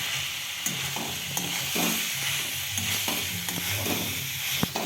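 Potatoes with ground masala and Kashmiri red chilli powder fry in oil in a pan, a continuous close sizzle with repeated spatula scrapes and stirring knocks.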